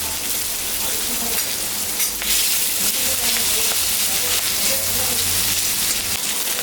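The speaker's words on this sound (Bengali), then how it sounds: "আলু পেঁয়াজটা ভাজা হয়ে গেছে," Potatoes and onions fry in hot oil for a rohu fish curry, a continuous close sizzle with soft stirring scrapes running throughout at a steady, fairly loud level.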